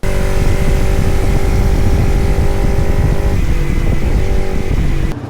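A motorcycle bought in Goa idles and runs close by, a loud steady engine drone that holds for about five seconds before dropping off abruptly near the end.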